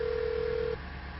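A single steady telephone tone sounds for under a second over a constant hiss, then stops, as a dialed call fails to connect.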